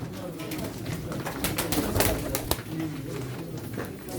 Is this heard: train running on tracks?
no